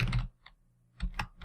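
Keys clatter on a computer keyboard as a program name is typed for a C# console application, two close bursts of quick keystrokes separated by a short pause.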